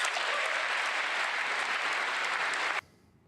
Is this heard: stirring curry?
no